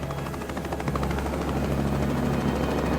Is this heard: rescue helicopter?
yes